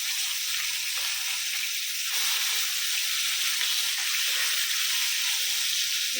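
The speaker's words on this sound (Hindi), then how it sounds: "मच्छी फ्राई हो गई" Bhangra fish sizzling steadily in a pan, a continuous bright hiss of hot oil frying that holds even and close throughout with no talking.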